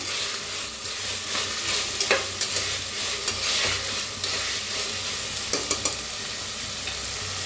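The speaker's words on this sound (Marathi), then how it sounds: "असं भाजायला लागलेलं आहे." Food frying in a hot pan in a home kitchen while being stirred, a constant close sizzle with occasional scraping clicks from the spoon, no voices.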